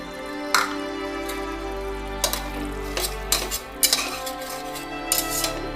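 A metal spoon scrapes and clinks against a pot while green peas are mixed into cooked mutton, irregular loud knocks and rattles over a faint background hum, close up with no talk.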